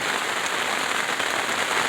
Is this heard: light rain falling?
yes